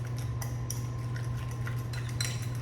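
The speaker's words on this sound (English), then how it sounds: "So you just wanna stir until combined." Wet ingredients for banana bread cookies being stirred in a bowl, with a utensil lightly clinking and scraping against the sides in a quick irregular rhythm over a steady low background hum.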